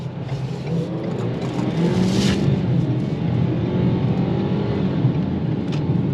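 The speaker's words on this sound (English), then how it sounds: "show you what it does when you kind of aggressively accelerate around a corner" A 2023 Ford Maverick XLT FX4 all-wheel drive with a 2-liter turbo, traction control off, accelerates hard around a corner, its engine droning steadily with a whirring, rising tone heard from inside the cabin.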